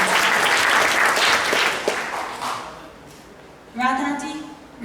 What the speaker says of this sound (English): We will just clap for Keshav.